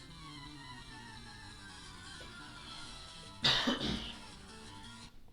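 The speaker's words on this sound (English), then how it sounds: "Didn't want coughing to mess up the audio" A single burst of coughing and throat clearing from a person playing Pokémon Fire Red, sharp and close, breaking out midway over faint, steady game music.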